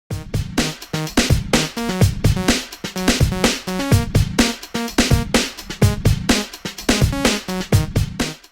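A buzzy synthesizer init-preset tone plays in repeated pulsing notes, a bright raw sawtooth sound with a steady rhythm, no voices.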